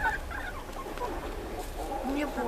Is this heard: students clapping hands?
no